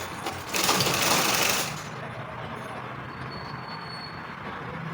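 A sewing machine top-stitches the edge of a long sleeve, giving a close, loud, dense mechanical whir for about a second before stopping into quieter room noise.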